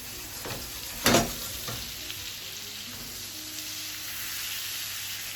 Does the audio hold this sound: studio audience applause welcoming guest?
no